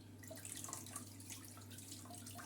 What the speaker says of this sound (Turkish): Şimdi yıkayacağım ve soğuk suyla yıkıyorum.